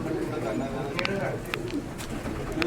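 A female pigeon coos in a loft, low throaty rolling coos repeating steadily through the clip, close and fairly loud, with a few sharper clicks and someone talking over them.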